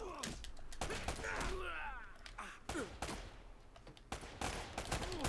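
Gunfire from the video game Uncharted: Drake's Fortune, with repeated sharp shots and bursts in rapid, uneven succession, mixed with grunts and other game sounds at close range.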